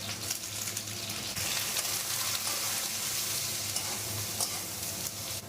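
Eggplant and potato pieces fry together in a pan of hot oil, giving a steady, close sizzle with light crackle and occasional stirring, continuous throughout with no talking.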